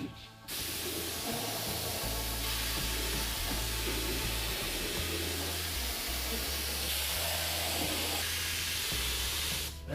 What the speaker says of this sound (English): I'm going to spray the whole entire headliner, and then we'll just spray the center of the padding and push it out